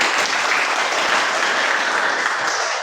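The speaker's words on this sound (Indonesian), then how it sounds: "silakan tepuk tangan." Loud, sustained applause fills a classroom, dense and continuous clapping from many students, close and even throughout with no talk over it.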